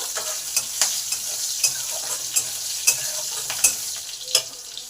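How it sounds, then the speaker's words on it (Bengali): Broken green chilli sizzles steadily in hot oil with cumin seeds, with repeated sharp clicks of a stirring spoon against the pan. "কাঁচা লঙ্কাটাকে ভেঙে দিয়ে দিলাম এবার এই লঙ্কাটাকেও কয়েক সেকেন্ড ভেজে নেবো"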